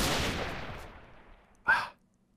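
A single short, sharp gunshot in a Minecraft game cracks out near the end after a fading rush of noise, then silence follows.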